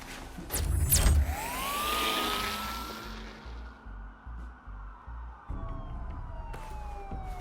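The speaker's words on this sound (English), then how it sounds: "There are quite a few police cars convening on your location." Police car sirens in Batman: The Telltale Series wail loud and close, with a rising electronic tone that sweeps and then holds steady over a pulsing low rumble, later easing into a fainter sustained siren.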